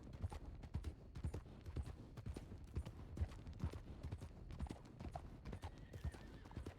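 Horse hooves clip-clop steadily over rocky ground in a video game, a quick, busy rhythm of hoof strikes with occasional snorts and a faint voice underneath.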